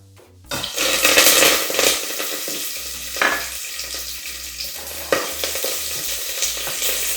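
Curry leaves, bay leaves and slit green chillies hit hot oil in a pan and burst into a loud, steady sizzle and crackle, with occasional stirring clatter and pops close by.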